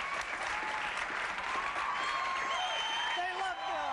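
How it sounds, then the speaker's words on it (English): A television studio audience gives warm, dense applause with some cheering as a guest is welcomed, continuous and full for the whole stretch, with voices faintly under it. "please give a warm round of applause for Bill Nye, the Science Guy."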